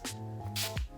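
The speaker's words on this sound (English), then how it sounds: "Now let's set the makeup in place with the All Nighter Setting Spray by Urban Decay." Urban Decay All Nighter setting spray sprays in two short hissing bursts from the pump bottle to set a full makeup look, with a steady low hum beneath.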